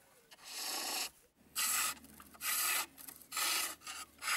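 A skew chisel cuts marking details into wood spinning on a lathe while a baby's rattle is turned, giving several bursts of rough scraping and rubbing with short quiet gaps between them, close and clear.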